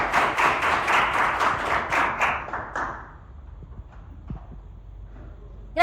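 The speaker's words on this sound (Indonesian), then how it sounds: "Jawaban yang bagus, kasih aplaus dulu" A class gives a short round of applause in a classroom: a quick series of crisp, evenly spaced claps lasting about three seconds that fades into a quiet room.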